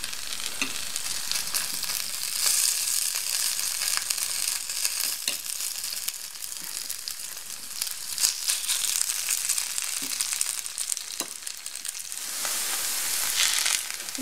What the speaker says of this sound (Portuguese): Quando o óleo estiver quente, é só colocar uns montinhos da batata, montinhos de batata ralada, formando as panquecas.